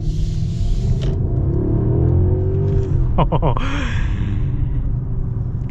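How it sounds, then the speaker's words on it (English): A 2024 Mercedes S580 with its V8 engine accelerating, heard from inside the cabin as a loud, steady low rumble that rises in pitch, while a person exclaims briefly over it. "this thing's got some power. You gotta go with the V8."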